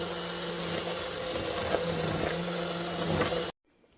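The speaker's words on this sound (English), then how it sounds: "Here's our immersion blender. Love these. You can do it right in the pot." Immersion blender whirring steadily in a pot of rhubarb barbecue sauce, a loud continuous motor hum that holds for about three and a half seconds, then cuts off abruptly into near silence.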